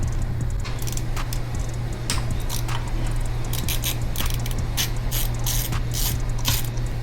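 A ratchet wrench clicks steadily while undoing the coil pack bolts on a Mitsubishi Evo X engine. The rapid, close mechanical clicking comes in repeated bursts over a constant low hum, with no talking.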